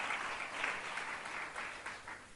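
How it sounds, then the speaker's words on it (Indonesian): Church congregation applauding during a fasting prayer service, a steady wash of many hands clapping at moderate distance, fairly faint and continuous with no talk over it. "Berikan tepuk tanganmu bagi Tuhan."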